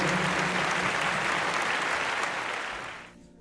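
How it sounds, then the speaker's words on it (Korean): A church youth congregation applauding in praise during a worship service, a loud, thick wash of clapping from many people that holds steady and then tapers off quickly at the end. "함께 하시는 살아계신 주님께 영광의 박수 올려드리겠습니다."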